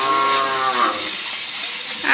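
A cow moos once, loud and close, a long low drawn-out call in a village setting beside home cooking, fading into quiet background hiss.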